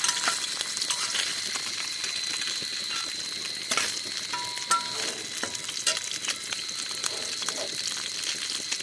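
Fish frying in hot oil, a steady crackling sizzle with scattered sharp pops and spatters, close and continuous with no talk over it.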